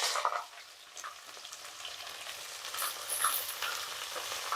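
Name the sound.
onions frying in ghee for ghee rice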